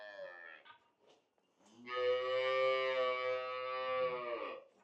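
A Cholistani Friesian cow on a farm gives one long, loud, harmonic moo lasting a few seconds, close by, with a few brief low sounds just before it.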